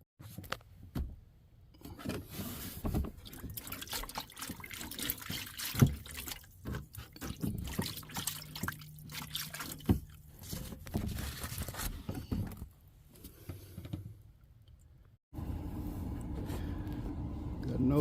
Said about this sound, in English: God, it's probably been dripping down here.